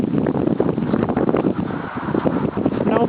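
Steady wind gusting across snow after a 24-inch winter blizzard at a storage facility, a loud continuous rush buffeting the microphone with no break for the whole stretch.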